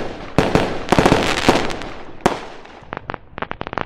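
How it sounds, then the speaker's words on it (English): Fireworks inserted as a celebratory sound effect crackle and pop in a rapid string of sharp, loud bursts, some in clusters and some spaced apart, with a crackling tail between the bangs. "Cue the fireworks."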